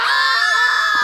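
A loud, sustained high-pitched scream, shrill and continuous for about a second, filling the clip with no speech over it.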